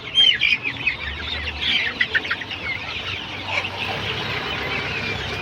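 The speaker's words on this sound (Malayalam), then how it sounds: "അതാ ഒരു കോഴി, വലിയ കോഴി." Chickens and roosters at a busy market in Kasaragod, clucking and squawking close by in repeated bursts over a steady crowd murmur.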